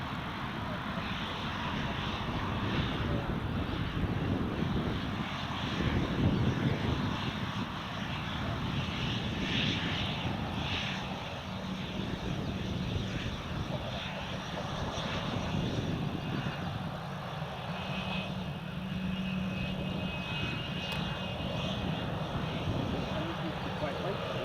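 A Loganair aircraft passes at Newcastle Airport on a crosswind day. A broad, steady engine roar fills the whole stretch at moderate distance, with wind buffeting and people talking underneath.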